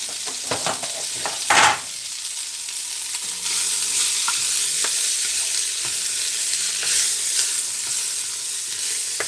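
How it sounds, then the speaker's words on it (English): Spanish rice frying in an enamel-coated cast iron Dutch oven, loudly stirred with a couple of scraping strokes at first, then a steady close sizzle that continues without speech. "we're going to go ahead and give this a stir"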